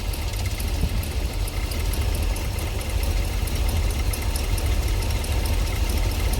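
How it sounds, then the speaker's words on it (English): A Ford engine runs steadily after its starter engages, a continuous low idle rumble with a faint knocking vibration, close and unbroken, with no talk over it. "The gear's pulled away and it's just sitting there. Now it's running."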